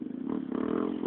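A Honda CRF dirt bike engine revs hard and steadily on a spring trail ride, a strong continuous buzzing drone close by without any talk.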